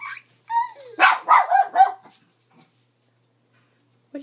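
A puppy yelps and barks close by in a quick burst of several high, whiny barks, then falls quiet before one last short yelp.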